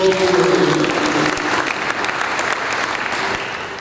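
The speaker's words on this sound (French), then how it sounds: "Acclamons très très fort." Sustained, dense clapping from a gathered audience at an evening memorial prayer service, loud and even throughout, with no break and no voices standing out.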